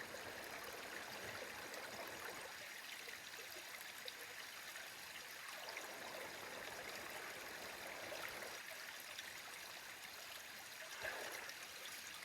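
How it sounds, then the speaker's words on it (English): Mountain spring water flows steadily along the Appalachian Trail, a soft continuous trickle and babble heard close but faint, with no voices. "This is actually a spring that comes right out of the mountain about 100 yards up."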